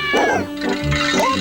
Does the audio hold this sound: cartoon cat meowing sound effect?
yes